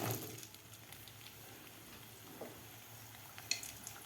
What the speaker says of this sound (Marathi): बटाटा आपल्याला व्यवस्थित ह्या तेलामध्ये फ्राय करून घ्यायचा आहे।